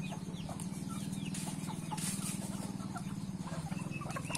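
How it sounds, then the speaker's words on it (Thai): Farmyard chickens cluck steadily at feeding time, a dense, continuous chorus of close, moderately loud clucking with no talk over it. "จะไปให้อาหารไก่ก่อน"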